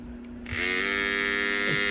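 Andis T-Outliner hair clipper switched on with its cam tightened down onto the pin, a loud, muffled, steady electric buzz with strong harmonics that starts abruptly and holds close and constant.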